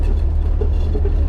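A BMW 3 Series heads to a tire shop, its engine and road noise a steady low rumble from inside the cabin with no voices.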